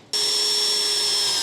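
A power drill bores through the tray of a Nissan GQ Patrol ute for rivet nuts, starting abruptly and then holding a loud, steady whine.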